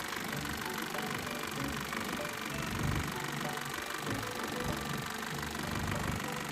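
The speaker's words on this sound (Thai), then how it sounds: "เสียงนิ่มๆเลยเครื่องก็เดินเรียบนะครับ เครื่องไม่มีสะดุดเลย" An Isuzu D-Max Rodeo 3.0 pickup engine idles steadily at moderate distance, a smooth continuous hum with faint rhythmic knocking and no stumbles.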